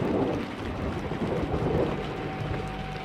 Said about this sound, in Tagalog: Ngunit, parang sinasadya, ay biglang bumukos naman ang malakas na ulan.